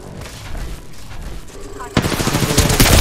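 Gunfire in a ranked multiplayer shooter game: a loud, rapid burst of automatic fire erupts partway through and continues to the end, following quieter game sounds.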